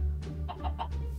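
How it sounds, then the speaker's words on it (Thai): Minecraft chickens cluck in a quick series of four or five short notes, close and clear over low background hum, with no talk. "มีไก่ด้วยวะ"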